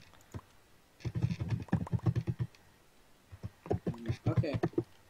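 Computer keyboard keys clatter in quick clustered bursts during a Bedwars game, sharp close clicks in two runs separated by a pause.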